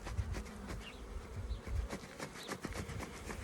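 Honeybees buzz steadily around an opened hive as a beekeeper adds a second story of frames, a soft, continuous hum with individual bees droning past close by.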